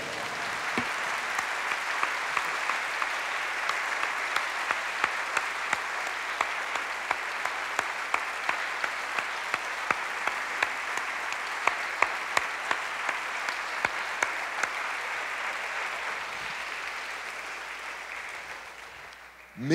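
Church audience applauding continuously, a steady wash of many hands clapping at moderate distance for the whole stretch before it fades out at the end.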